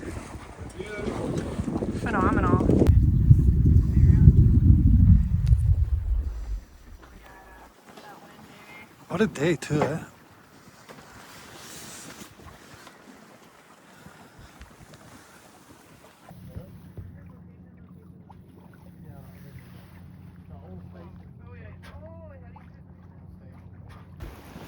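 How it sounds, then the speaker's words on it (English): A sailboat moves on the West Coast ocean with strong wind buffeting and water rushing, then calmer stretches of sea and breeze, with people talking over it and a low engine-like hum near the end. "And here we are in the ocean sailing today."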